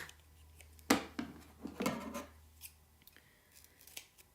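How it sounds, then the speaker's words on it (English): Scissors make a few close, crisp snips through tape while making a sublimated fall throw pillow cover, with quieter handling rustles between the cuts. "I think I cut too deep with my scissors"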